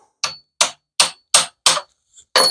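Hammer punching a cut-off pin out of a trailer jack handle: six sharp metallic strikes in steady rhythm, loud and close, with one faint tap between the last two.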